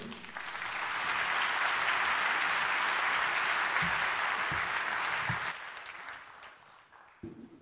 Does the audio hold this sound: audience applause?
yes